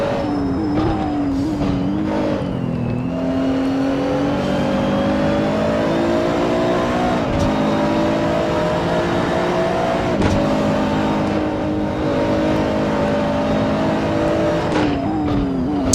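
Race cars accelerating along the infield straightaway at Bahrain in Gran Turismo, engines droning loud and steady as pitch climbs through upshifts toward fifth gear, with a brief tire squeal.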